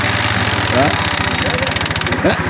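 A neglected Yamaha ATV's engine runs steadily close by, a throbbing, even idle-like drone with a regular pulse and no talk over it.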